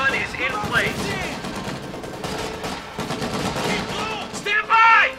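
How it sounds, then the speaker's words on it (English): Rapid machine gun bursts crackle through battle noise in Company of Heroes 2: Ardennes Assault, a World War II strategy game, with soldiers' shouted voices laid over the gunfire. "Fighting position machine gun is in place."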